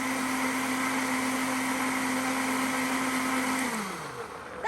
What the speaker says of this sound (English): You don't want to overdo it with the Vitamix because it starts to heat your product a bit.